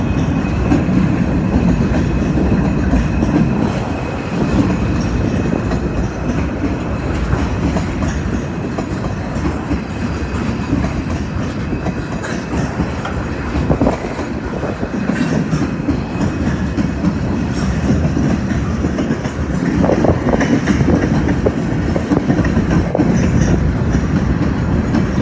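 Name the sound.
long freight train passing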